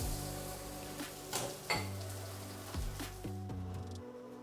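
Pieces of salmon for blackened salmon sliders go into a hot pan, giving a continuous sizzle broken by several soft clunks and scrapes of pan and utensil.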